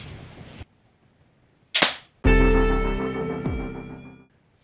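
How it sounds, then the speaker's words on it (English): A crossbow fires a Ballista Sting bolt fitted with a lighted Firenock nock into a target bag: a brief rustle, a sharp snapping release, then a loud ringing twang that decays over about two seconds. "I'm going to go ahead and shoot one into this bag, just so you can see how that it works"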